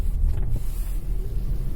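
An all-wheel-drive test vehicle in 4-low gear on snow and ice, its engine running at higher RPM as a steady, loud low rumble close to the microphone, with no talk over it.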